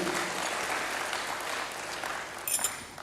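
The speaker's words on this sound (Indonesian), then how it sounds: "Berikan tepuk tangan bagi Tuhan" A church congregation applauds for God, a steady, close wash of many hands clapping for a few seconds, with a slight burst near the end.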